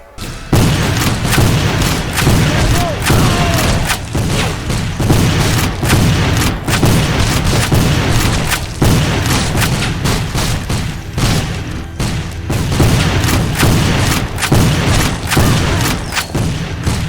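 Video game gunfire from a History Channel first-person shooter: dense, loud bursts of rifle shots and booming explosions crack in rapid, irregular succession over a continuous battle din, with no talk.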